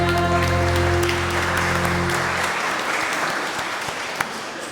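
A Mass congregation at a sanctuary claps for birthday celebrants, steady full applause that begins over a fading sung or organ chord and carries on alone, tapering slightly.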